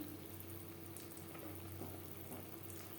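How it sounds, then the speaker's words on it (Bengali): Spiced gravy for a katla fish belly curry simmers in a pan, a faint steady hiss with soft bubbling pops, heard close and alone. "গ্রেভি ফুটে ওঠা পর্যন্ত অপেক্ষা করব"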